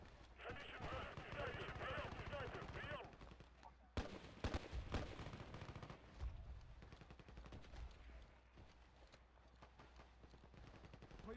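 Rifle gunfire in a first-person shooter video game featuring L85 and FAMAS weapons, a burst of rapid shots followed by scattered single reports, with players talking throughout.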